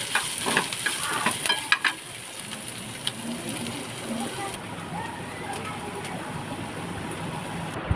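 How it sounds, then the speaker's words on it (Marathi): Onion frying in oil in a pan, part of a Marathi chicken keema snack recipe, sizzles steadily with some busier crackling at first before settling into an even hiss. Someone speaks faintly over it. "कांदा सुद्धा छानपैकी असं फ्राय झालेलं तेलामध्ये"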